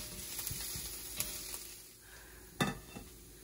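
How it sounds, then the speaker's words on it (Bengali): Onions frying in a pan until browned make a faint, steady sizzle, broken by a few light clinks and scrapes of a spoon against the pan. "পেঁয়াজটা পুরো ভাজা ভাজা হয়ে একটা ব্রাউন বর্নের একটা কালার আসলে"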